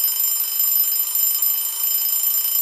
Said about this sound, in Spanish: ese sonido es del despertador